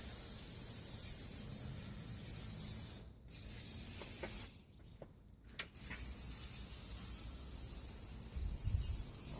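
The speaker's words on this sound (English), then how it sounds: "once we spray this stuff on, we're waiting 10 minutes, 15 minutes to let it kind of soak in" A steady, loud aerosol spray of engine cleaner hisses for several seconds, pauses briefly twice, then resumes in long continuous bursts.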